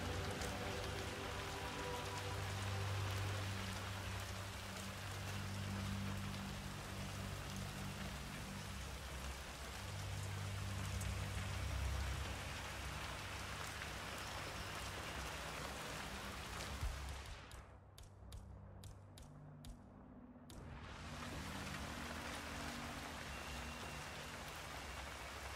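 Steady rain falls in a video game, a dense continuous patter on surfaces that holds throughout and briefly thins out near the end before returning.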